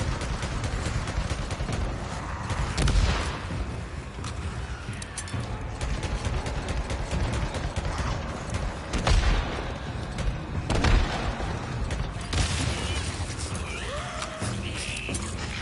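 Gunfire in the video game Days Gone, with sharp shots and booming bursts scattered across a dense, noisy battle mix, some heavier blasts standing out loudly.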